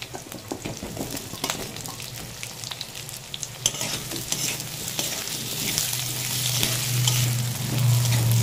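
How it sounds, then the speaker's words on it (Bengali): Potatoes fry with onions in a pan, sizzling steadily while being stirred, with scraping strokes throughout and the hiss swelling louder toward the end. "কিছুক্ষণ আলুটা ভেজে নেব, তারপরে দেব ঝিঙে।"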